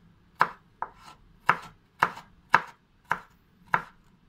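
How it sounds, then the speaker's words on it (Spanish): A knife chops vegetables into strips and squares on a cutting board, seven crisp, close knocks spaced at a fairly even, deliberate pace with quiet gaps between them. "Vamos a cortar todo en tiritas y después en cuadrados bien."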